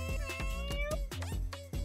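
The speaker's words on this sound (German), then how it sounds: "Danke für dein Miauzen." A cat meows several times in quick succession, close and clear, with a short caterwauling rise near the end; a voice is faintly present behind it.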